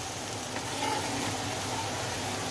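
Onion fries in a pan with a constant, dense sizzle and crackle at moderate loudness, an even spitting texture that runs with no pauses.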